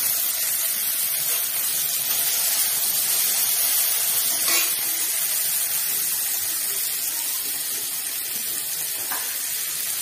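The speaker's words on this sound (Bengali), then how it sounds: "টমেটোটা ফ্রাই করা হচ্ছে।" Tomatoes frying in a pan with spices for a mustard chicken dish, a constant even sizzle and hiss that holds steady throughout with no voices.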